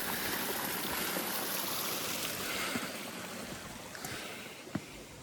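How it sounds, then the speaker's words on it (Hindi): A natural mountain water source near the high Yulla Kanda Shree Krishna temple trail flows in a steady close rush of trickling water, with a few faint clicks and taps toward the end. "और नेचुरल पानी का स्रोत,"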